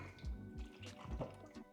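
Liquid sloshes inside a film developing tank as it is turned over and back several times, giving a run of close, rhythmic splashes and drips with no talking.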